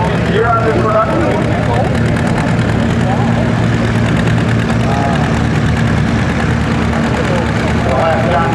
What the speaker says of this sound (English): Peter Mueller with the John Deere Beacon. About a 1941 vintage year on this production.